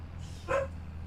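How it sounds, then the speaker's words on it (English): A farm dog gives a single short, muffled bark partway through, heard faintly over a low steady background hum. "even Farm Dog, if you can hear her, is saying he's doing a great job"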